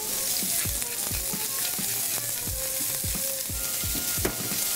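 Courgettes sautéing in a pan with olive oil, salt and pepper, a bright continuous sizzle broken by regular soft clacks and stirs, close up with no voices.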